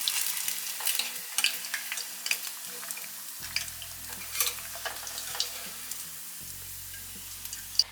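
Paneer cubes frying in an oil-filled pan for chilli paneer, a steady close sizzle with irregular crackles and the scrape of stirring throughout.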